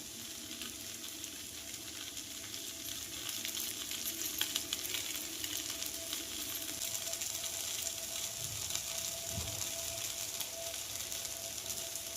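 Appe dumplings sizzle in a hot appe pan after being flipped, a steady soft frying hiss with a faint hum, and an occasional light clink near the end.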